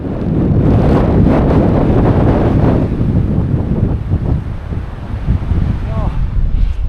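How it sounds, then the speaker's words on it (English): Strong wind buffets the microphone on a Lake District fell near Castle Crag, a loud, continuous low roar with gusts that ease slightly toward the end. "full on in the wind today"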